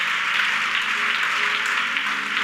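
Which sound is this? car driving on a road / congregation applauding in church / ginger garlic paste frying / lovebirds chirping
congregation applauding in church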